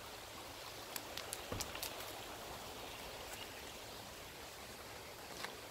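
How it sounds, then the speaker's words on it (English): A small babbling brook runs steadily outdoors, a constant broadband wash of water with a few faint clicks and splashes near the start and end, no voices. "It's a lovely little babbling brook behind me."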